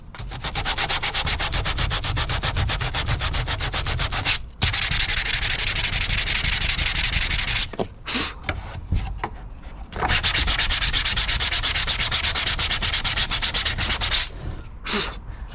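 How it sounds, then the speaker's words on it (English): Sanding parts of a life-size R2-D2 replica by hand, with rapid rhythmic scraping strokes in long loud bursts separated by brief pauses and a few short passes near the end, close and alone with no voices. "It's just going to be me sanding."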